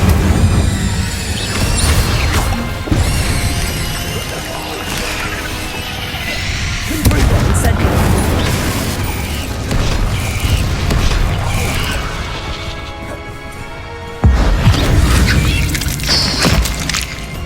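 Confringo and Incendio spell blasts in the Hogwarts Legacy video game: loud, booming fiery bursts and crackling impacts recurring over and over amid dense, continuous combat sounds.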